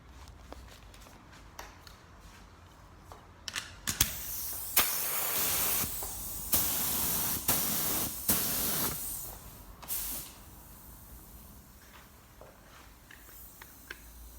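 UV primer is sprayed onto a welded car bumper during a smart repair: several bursts of close spray hiss, each lasting a second or two, with short pauses between them, then quieter handling noises at the end.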